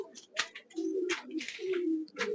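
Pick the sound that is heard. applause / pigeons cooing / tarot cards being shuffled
pigeons cooing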